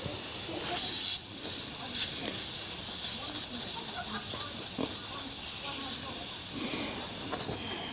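Air hissing from a leaking tyre valve on a 1929 Austin Heavy 12/4 Windsor, a brief sharp close hiss at the start, then quieter steady background with faint talk.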